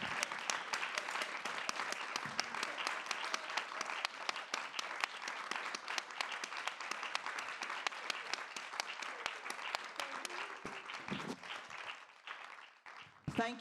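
Applause from an audience at a European Parliament talk and debate event: a warm, continuous patter of many hands clapping for about twelve seconds before thinning out and fading near the end.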